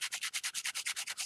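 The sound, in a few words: sanding with light P600 grit sandpaper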